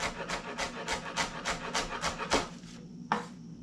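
A knife finely chopping chili and coriander on a board for Kolkata vegetable chops, giving about ten quick, close, evenly paced chops followed by a short pause and one last chop.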